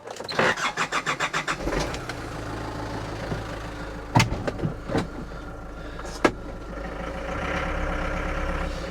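A small engine cranks with rapid rhythmic chugs, catches, and settles into a steady idle, with a few clunks and clicks along the way.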